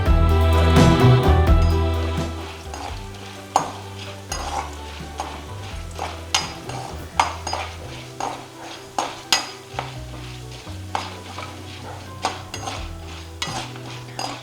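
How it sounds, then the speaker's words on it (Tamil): Chana dal and five dried red chillies frying in a little oil in a pan, a loud sizzle with repeated scraping and clinking of a spoon stirring against the metal, close and alone without talk. "வாணலியில் கொஞ்சமாக எண்ணெய், கொஞ்சமாக கடலைப்பருப்பு, 5 காஞ்ச மிளகாய்,"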